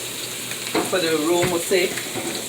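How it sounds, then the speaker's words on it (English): Chopped onions frying in a pan for a Guyanese curry chicken, with a steady close sizzle beneath a voice talking over it. "In the meanwhile I throw some chopped onions in the pan"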